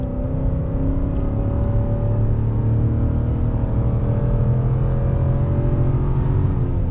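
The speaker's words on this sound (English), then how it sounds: "it goes so quick with the acceleration" A 2021 Nissan Titan Pro-4X pickup truck accelerating hard on a canyon drive, its engine a steady, loud, continuous drone with rising harmonics heard from inside the cab, with no talking.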